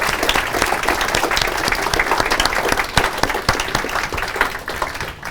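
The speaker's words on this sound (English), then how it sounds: "Please give him a round of applause." A meeting audience gives a sustained round of applause, dense, loud and even clapping from many hands throughout, with no voices standing out.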